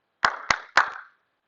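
A teacher claps hands as a signal in a movement class, three sharp, loud claps in quick succession, close and alone.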